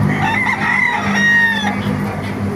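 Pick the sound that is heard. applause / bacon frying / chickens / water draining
chickens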